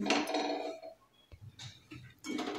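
Semolina dry-roasting in a pan over a low gas flame, heard as a few bursts of scraping and clinking as a spoon stirs the grains against the metal, with quiet gaps between.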